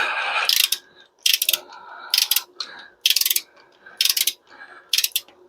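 A ratchet socket wrench clicks in rapid bursts while working on a small-block Chevy engine cylinder head, about six sharp, close ratcheting runs separated by brief pauses, with no talk over it.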